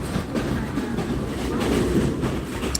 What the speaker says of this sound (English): We just got on the train